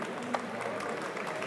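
A wrestling tournament audience applauds the champion during a victory lap: a brief, steady wash of clapping from a crowd, fairly dense and even throughout.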